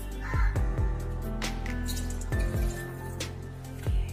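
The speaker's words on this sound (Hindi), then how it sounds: "और अब हम इसमें डालेंगे बहुत सारा पानी।" Plenty of water poured into a bowl of spiced yogurt for thin masala chaas, with splashing, dripping and filling sounds and a few sharper knocks, close by and without speech.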